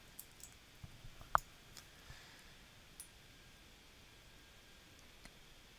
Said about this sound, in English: Then I click the OK button